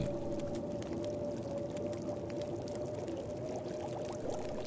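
Water being collected in the survival game The Long Dark: a continuous pouring, trickling wash with a steady tonal ring, even and moderately loud throughout, with no voices.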